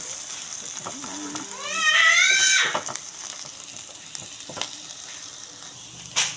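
Onion and vegetables for pinakbet hit a hot pan with a sudden swelling sizzle that then settles into a steady crackling fry, close and fairly loud, with occasional clinks of stirring.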